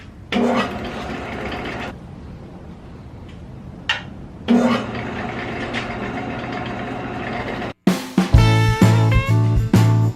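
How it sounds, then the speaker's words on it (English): A wood lathe spins a California fir bowl blank at about 600 RPM, giving a steady motor hum with tonal harmonics in bursts that stop and restart, then a sharper, louder run of tonal whine near the end. "Alright, so I've got the lathe. We're going to start at around 600 RPM."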